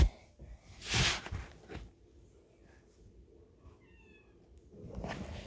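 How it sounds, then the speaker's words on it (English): A cat gives a short meow close by, followed by quiet, low rumbling purring and soft movement sounds. "I don't know if you can hear the purring."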